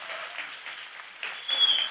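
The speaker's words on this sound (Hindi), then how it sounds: "Can we give a big hand to the Indian mothers" Applause from an audience at a church gathering for Indian mothers, a short burst of clapping that swells louder toward the end.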